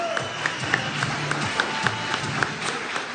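A studio audience claps and cheers to welcome cricketers onto a Pakistan–India match special broadcast, a dense sustained round of applause with crowd voices mixed in.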